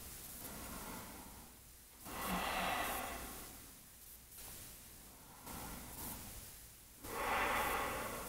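Slow, deep breathing during a gentle yoga stretch, close and fairly quiet, with long airy inhales and exhales in a steady rhythm and no talking.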